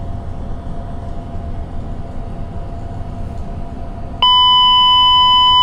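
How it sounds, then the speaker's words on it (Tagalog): A JRC VHF radio controller sounds its self-test alarm, a steady loud electronic beep of layered pure tones that cuts in abruptly near the end and holds, after a stretch of low rumbling background noise. "Wait for alarm."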